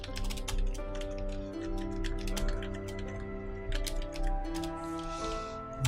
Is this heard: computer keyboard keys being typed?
yes